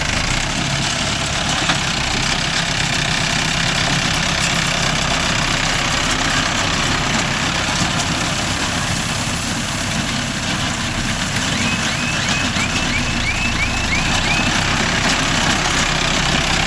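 A Mahindra Arjun Novo 605 DI tractor diesel engine running while reversing, a loud constant low drone with a steady knock that holds unbroken throughout, no talk.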